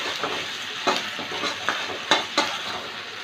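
Ginger paste frying in a pan among potatoes, a steady close sizzle with a few sharp spatula scrapes and clinks against the pan.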